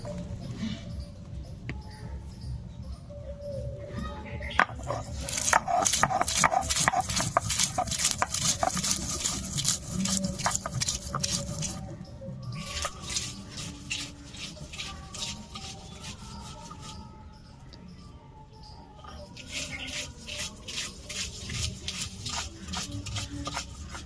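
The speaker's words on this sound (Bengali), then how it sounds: "এখন বেটে নেব কাঁচা লঙ্কা।" Green chillies being ground into a paste on a stone, a steady rubbing and scraping rhythm in repeated bursts with short pauses, close and moderately loud, with no talking.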